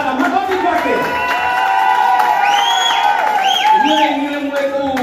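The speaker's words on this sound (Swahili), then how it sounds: "Wote na kasana makofi kwake." A crowd at a launch and anniversary celebration clapping and cheering, with whoops, shouts and loud voices over steady applause, close and lively throughout.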